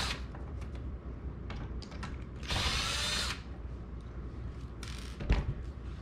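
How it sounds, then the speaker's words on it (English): A small power drill backs a screw out of a Rock Band plastic guitar fret, with a short high whir burst near the middle and a brief second burst later, among faint clicks and handling noise nearby. "you have to get the screw off to get this fret off"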